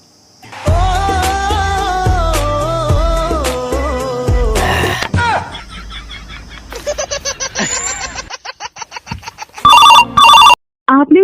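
A telephone rings during an outgoing call in a Hindi comedy sketch, loud repeated ringing tones following a stretch of music, with short pauses between rings.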